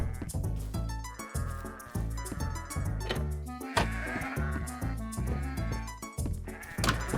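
Sheep of many colors bleat repeatedly in a Minecraft barn with an auto sheep shearer, a dense, loud overlapping chorus of close, wavering bleats with brief gaps, heard alone without talk.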